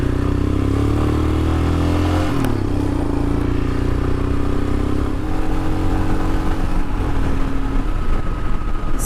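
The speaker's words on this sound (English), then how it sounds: "It's just the engine making its noise" A Royal Enfield Himalayan motorcycle engine runs after a valve check and adjustment, a steady, close single-cylinder idle with a brief rev near the start and a rough, even thrum with mechanical clatter throughout.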